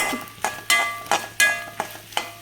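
Grated coconut being stirred and scraped with a spatula as it roasts in a pan for cauliflower masala: about seven sharp, evenly spaced scrapes over a soft, steady sizzle, close and moderately loud.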